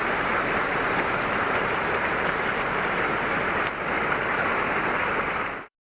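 Heavy northeast monsoon rain pours down in Idukki, Kerala during flooding, a dense, loud, unbroken hiss of downpour striking surfaces, steady throughout before cutting off abruptly.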